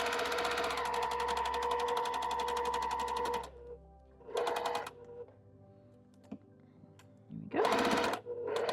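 A sewing machine stitching quilt pieces for a springtime bunny quilt, running in a steady, fast mechanical whir for several seconds, then stopping and restarting in short close bursts with quiet handling noises in between.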